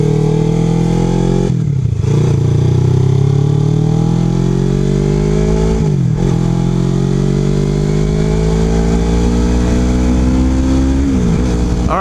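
A 250cc starter motorcycle engine revving hard at full throttle, loud and close, its pitch sweeping upward in long pulls with brief drops between them as the throttle is rolled back and opened again.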